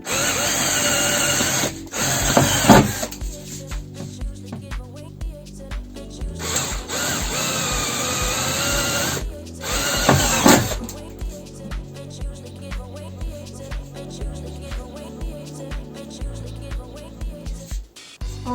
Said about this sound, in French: Donc on perce, pour mettre du M5, on perce à 7.